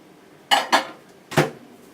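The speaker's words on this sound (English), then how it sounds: "if you just keep giving it a quick stir" A spoon scrapes and clinks against a bowl of melted chocolate, three short distinct strokes in a quiet kitchen with no voices.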